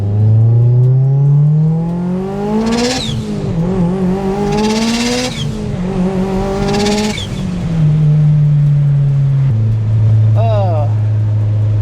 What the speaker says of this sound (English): I love this car so much. It makes the greatest noises ever.